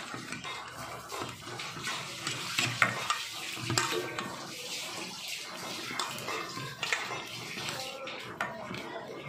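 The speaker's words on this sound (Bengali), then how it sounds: "এবার মশলাটা হাতের সাহায্যে আমি মেখে নিচ্ছি।" Hands squish and knead spice paste for hilsa fish paturi, wet sticky mixing sounds repeating in an uneven rhythm, close and fairly quiet, with faint kitchen background.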